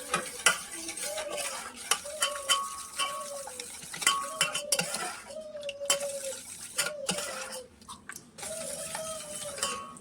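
A spoon stirs a coffee mixture into cupcake batter in a bowl, scraping in repeated rhythmic strokes with light clinks, close and fairly quiet.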